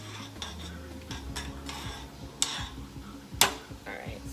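A utensil stirs food in a pot with soft scraping and a couple of sharper clinks against the side, under a person talking.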